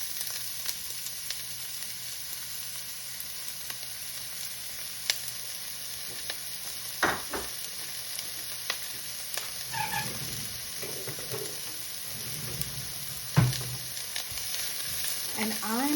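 Onions frying in a stovetop pan, a soft steady sizzle running under scattered clinks and scraping stirs, with a couple of sharper knocks against the pan.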